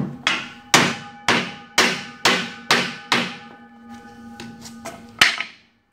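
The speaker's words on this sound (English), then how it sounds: "Let's tap this in." Wooden ply divider panel of a horse stable being tapped into place: six evenly spaced sharp knocks, each ringing briefly, then a few lighter taps and one final firm hit, close and alone.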